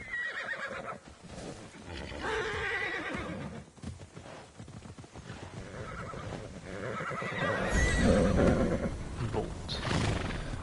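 Horses whinnying and neighing in Immortals Fenyx Rising, several loud calls with hoof clip-clop mixed in, close and without speech.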